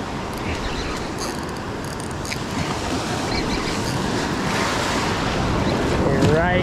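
Ocean surf breaks on a beach with a sandbar offshore, a loud continuous roar and wash of waves mixed with wind buffeting the microphone, swelling slightly toward the end.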